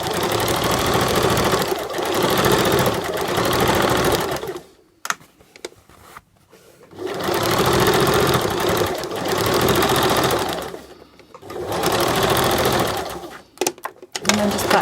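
A sewing machine stitches a waistband seam in fashion fabric, running loud and steady in long buzzing bursts that break off into brief pauses before starting again, with no voices over it.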